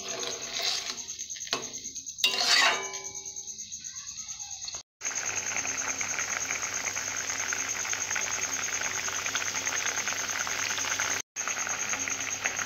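Water for a Bengali puti fish curry with vegetables comes to a boil in a pot, giving a steady, close bubbling hiss that runs on after a few brief clattering knocks, with no voices.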